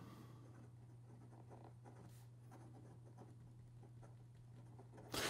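Nakaya Decapod Twist fountain pen with a medium nib, writing reversed on paper: a soft, continuous scratchy scrawl of quick strokes, close and very faint over a low steady hum, ending with a brief louder rustle.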